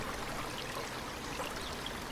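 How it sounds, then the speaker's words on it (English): A stream flows over and under boulders outdoors on a summer evening, giving a steady, broadband rushing wash at moderate distance with no voices. "Check out how the stream just disappears under those boulders."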